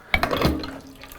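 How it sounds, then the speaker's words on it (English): A short gush of water rinsing from the group head of an ECM Mechanika Slim PID espresso machine splashes briefly, then tapers off into a quieter trickle. "I like to give it a quick rinse from the group"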